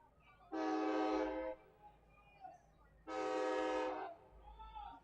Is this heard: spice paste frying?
no